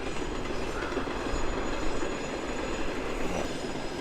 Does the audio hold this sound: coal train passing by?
yes